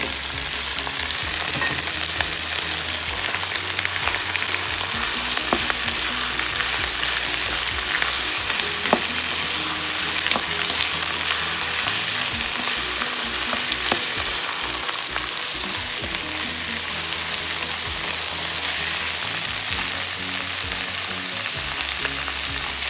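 Chopped pechay sizzles and fries steadily in a pan with sardines, a loud continuous crackle that lasts throughout. Faint scrapes and stirring knocks sound here and there under it.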